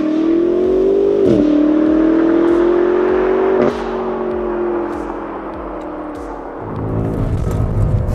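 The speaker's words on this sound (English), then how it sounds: "BMW M5 Competition launch control." A 2021 BMW M5 Competition accelerating hard under launch control, a loud close engine drone rising in pitch through two quick gear shifts, then easing off before building again.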